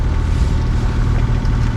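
A sailboat motors under engine with sails set, a steady low engine drone and rushing wind and water noise filling the short stretch at constant loudness, with no voices.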